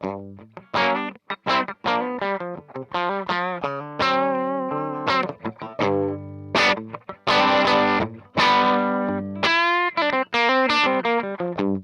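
An electric guitar plays a melodic run of bright, sustained notes and chords through a clean boost pedal, loud and close, with a slightly driven, boosted tone and no voices.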